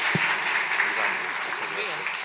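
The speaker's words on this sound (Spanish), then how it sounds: "Aplauso, por favor." Applause from an audience at a cultural and artistic event during a congress, a continuous wash of clapping heard at moderate distance, with a voice speaking over it.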